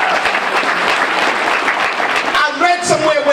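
Audience at an NAACP Martin Luther King Jr. breakfast clapping hands, dense sustained applause from many people throughout, with voices rising near the end.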